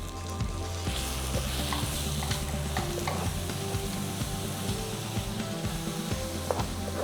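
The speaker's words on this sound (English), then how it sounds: "Saute them together at low flame." Spice paste of coriander, red chili and cumin powders sautés over a low flame for an Indian crab masala, a steady close sizzle with scattered stirring scrapes throughout and no voices.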